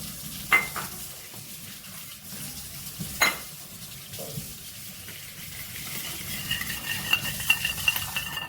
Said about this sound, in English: he's gonna mix 2 pinches of salt in the ghee